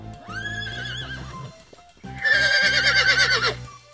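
A horse gives loud, quavering whinnies, first a long call and then a stronger, shriller one, over a steady musical backing.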